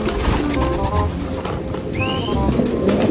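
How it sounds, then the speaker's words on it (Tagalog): A pigeon in a loft gives a brief coo amid a busy background of flapping and shuffling, with other low bird sounds scattered through; close and moderately loud. "Ang kalapating magkaiba mata."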